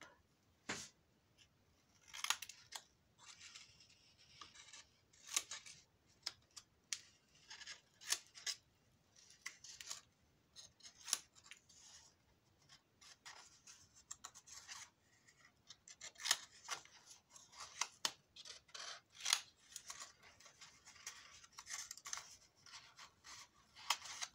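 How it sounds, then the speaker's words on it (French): Small scissors snip through paper for a handmade album, a long run of crisp, close cuts in irregular bursts with soft rustling of the paper between them, with no talking. "Hop, petit ciseau."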